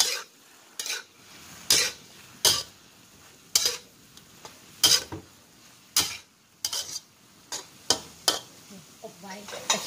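Lotus stems being stir-fried in a pan with oyster sauce and light soy sauce, a spatula scraping and tossing in a steady series of sharp strokes over a faint sizzle, close and fairly loud.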